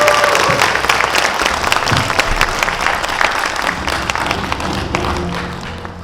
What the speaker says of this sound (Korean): 여러분 힘찬 함성과 박수로 모시겠습니다